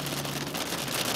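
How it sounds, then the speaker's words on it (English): Sleet ice pellets strike a car driving through a November storm, a dense, steady patter close on the body and glass over a low road rumble. "I am driving through ice pellets"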